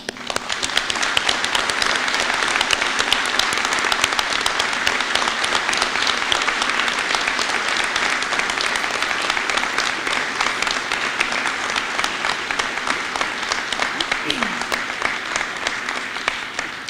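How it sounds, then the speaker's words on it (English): A large audience at a National Honor Society seniors ceremony applauds continuously, dense steady clapping that holds at full strength for the whole stretch. "let us please offer these young people a round of applause"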